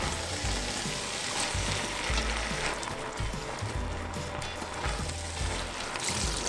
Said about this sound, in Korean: 국간장 2숟가락 넣고 골고루 섞으면서 볶아줍니다.